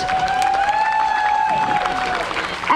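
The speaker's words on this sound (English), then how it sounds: "A round of applause for them, please." Crowd applause and cheering at a Labor Day parade, a steady outdoor wash of clapping that runs throughout, with a sustained whistle-like tone sounding over it.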